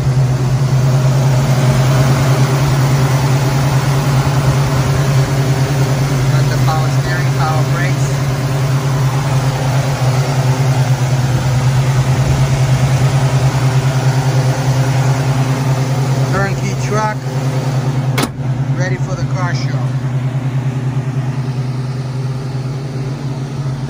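A 1970 Chevrolet C10 short-bed pickup, rust-free and in clean condition, runs with a steady low engine drone throughout; faint voices come through briefly in the middle and later.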